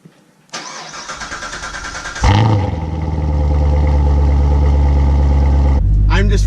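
A C7 Corvette with stock mufflers cold-starts with a sharp crank and bark, then settles into a loud, steady, deep high idle that holds to the end. A brief voice appears at the very end.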